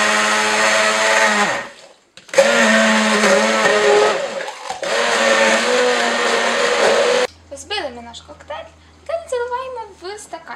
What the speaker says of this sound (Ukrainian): І збиваємо блендер на середній швидкості.